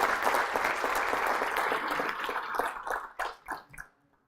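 Clapping from a conference audience at an environmental health association awards event, a dense round of applause that thins toward the end into a few scattered final claps before stopping.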